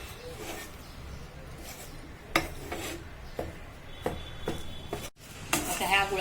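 Ground chana dal being stirred into hot jaggery syrup in a pan, with scraping and clinking of a spoon against the vessel in short bursts, close and fairly quiet.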